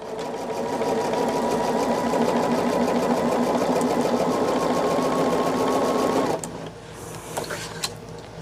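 A sewing machine stitches fabric with a quarter-inch seam, a fast steady mechanical whir and needle clatter running for several seconds before stopping, then a few faint clicks.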